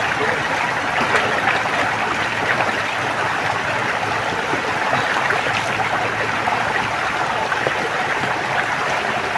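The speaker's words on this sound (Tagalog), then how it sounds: "Sobrang lamig ng sapa mga ka-idol." A cold creek flows in a steady, close rush of water that runs without pause for the whole stretch, loud and broadband, with no clear talk over it.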